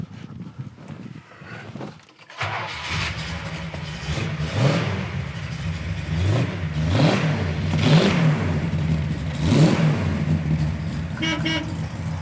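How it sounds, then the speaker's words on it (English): A 1968 Plymouth Satellite Roadrunner tribute V8 with headers cranks and fires up, then settles into a loud idle broken by several throaty revs, a nearby muscle-car rumble that is strong but not harsh. "it's got that nice muscle car sound, but it's not obnoxiously loud"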